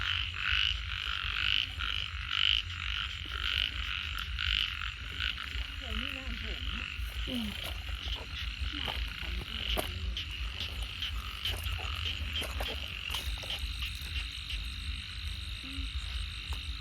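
A dense chorus of frogs croaks continuously at night, with chirping insects mixed in, steady and close throughout.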